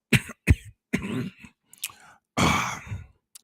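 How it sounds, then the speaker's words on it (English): A man clears his throat in several rough bursts, with short coughs and a breathy exhale between them, close up and alone with no speech. "Let me clear my throat"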